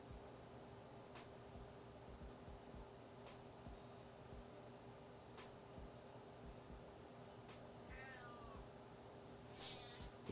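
A cat meows faintly and briefly in the background against a steady hum, with no talking.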